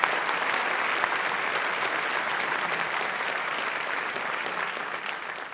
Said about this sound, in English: Let's give a big round of applause to Dr. Wilson for doing a great job.